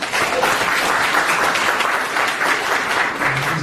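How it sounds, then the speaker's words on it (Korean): An audience at an economic event gives a loud, sustained round of applause welcoming a guest, dense clapping that holds steady throughout without talk. "큰 박수로 환영해 주시기 바랍니다"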